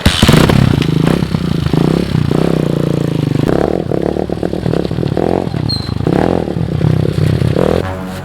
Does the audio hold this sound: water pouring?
no